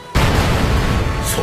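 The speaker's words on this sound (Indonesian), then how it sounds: "tag meledak secara bersamaan, menyebabkan ledakan besar yang mampu menembus batu padat" A large explosion from exploding tags in Naruto anime, a sudden loud booming blast that rumbles on steadily, close and alone.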